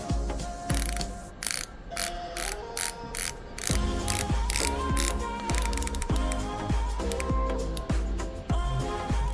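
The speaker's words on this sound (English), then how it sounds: "I also love the thick coin edge bezel that is featured on higher end Prospex models. It's easy to actuate and actually has very nice action." The thick coin-edge dive bezel of a Seiko Prospex SNE583 solar watch is rotated, producing a steady run of crisp, evenly spaced ratcheting clicks, close and clear throughout.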